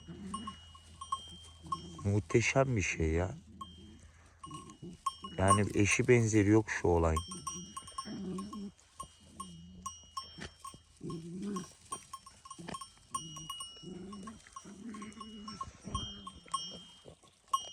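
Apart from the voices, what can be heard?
flock of sheep grazing with a bell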